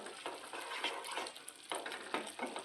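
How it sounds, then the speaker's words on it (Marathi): Egg masala gravy simmering in a pan, with a steady close bubbling sizzle and faint stirring scrapes that swell and ease in soft waves, no voices. "आपली ग्रेव्ही शिजत आहे"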